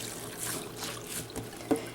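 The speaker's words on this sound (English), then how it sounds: "I usually just fold it and kind of carefully press in the sink to get as much water out as I can." Rinsed wool is pressed in a sink to squeeze out the water, making a soft continuous trickle and dribble close by, with a small wet splash near the end and no talking.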